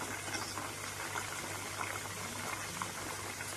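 Whole chicken frying in hot oil, a steady, fairly quiet bubbling sizzle with no talking.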